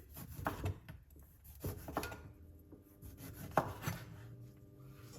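A knife chops a lime on a cutting board while a drink is prepared, giving a few irregular soft thuds and scraping rubs, quiet and close.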